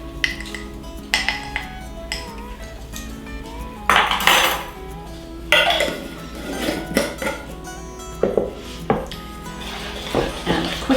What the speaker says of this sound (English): And quickly stir everything in.